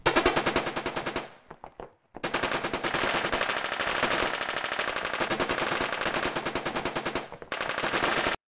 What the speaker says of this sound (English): Four of them are machine guns.